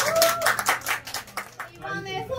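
An audience at a scholarship award ceremony claps in a brief burst of quick hand claps that mixes with people talking over it.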